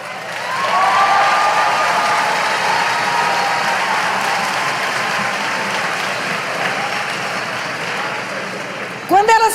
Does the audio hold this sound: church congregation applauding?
yes